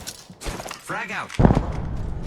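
A frag grenade blows up in the Apex Legends battle royale game, a single heavy burst with a rumbling tail heard just after a man's speech and under game noise.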